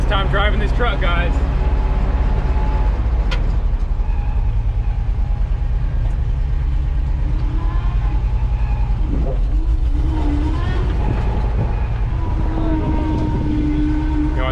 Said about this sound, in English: Yeah, the noise is the alternator.